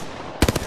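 Gunfire in Apex Legends: a quick burst of three or four loud, close shots in rapid succession after a moment of low background noise.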